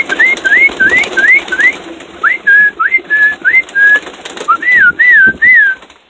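A person whistles to tame pet birds in an aviary, a loud close series of short rising and falling whistled notes in repeated phrases with brief pauses.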